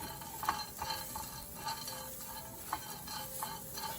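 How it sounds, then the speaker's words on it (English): Chopped green chilies and cilantro are stirred in a pan for a spicy raw cucumber sauce, giving faint, soft scrapes and light clinks spaced irregularly over a quiet background hiss. "So let's give it a quick stir, just enough for it to get heated."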